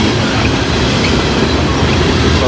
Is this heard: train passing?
yes